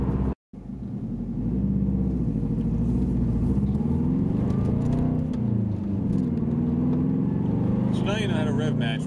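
A Toyota MR2 engine revs during a rev-matched downshift on an autocross circuit. It is a loud, steady drone whose pitch rises and falls, broken by one very brief dropout near the start.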